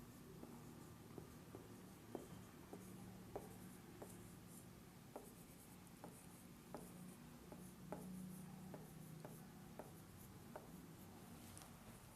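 Handwriting door numbers, with a pen scratching and tapping across paper in a steady series of short strokes, quiet and close, with no talk.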